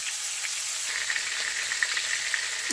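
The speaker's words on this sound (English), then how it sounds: "it's been frying for about 5 minutes" Continuous close-up sizzle of catfish frying in a pan, with a soft steady hiss and scattered small pops and crackles of oil throughout.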